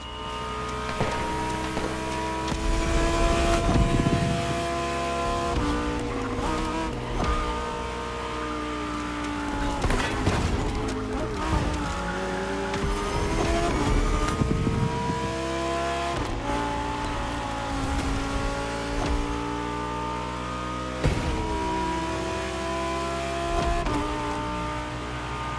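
Lamborghini Huracan Performante racing in The Crew Motorfest, its engine revving up and down through repeated gear changes, a loud, close, continuous howl with brief dips between shifts.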